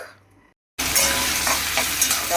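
Food frying in hot oil, a loud continuous sizzle that bursts in after a short quiet stretch and stays steady to the end.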